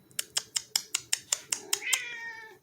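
A pet cat makes a quick run of about ten short, clipped chirping calls close by, ending in a longer drawn-out meow.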